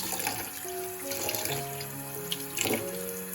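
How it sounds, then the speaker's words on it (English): Octopus being washed under a running kitchen tap, water pouring steadily into a sink with splashing and handling noises, close and continuous. "Wash it until we get all this little slime that they have on them."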